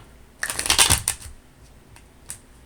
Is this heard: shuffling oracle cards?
yes